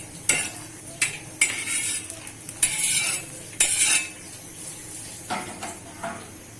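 A spoon stirs masala roasting in a pan for fish fry and fish curry, giving a series of scraping, rustling strokes with faint sizzling, close and moderately loud, with short pauses between strokes and no talking.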